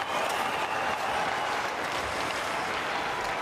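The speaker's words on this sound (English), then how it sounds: "And the crowd cheers." Arena crowd at a 2022 IIHF World Junior Championship hockey game between Austria and Canada cheers and applauds, a steady, loud roar of clapping and voices filling the whole stretch.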